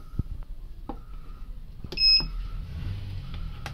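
A laser therapy device gives a sharp electronic beep as it starts up, a single clear tone near the mic over faint clicks and handling noise, with no talk.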